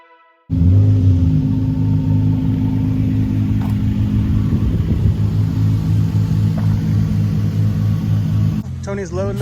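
A Nissan 350Z drift car's engine idles with a deep, steady rumble close by as it is loaded onto a trailer. The engine stays loud and even throughout, and a brief voice is heard at the very end.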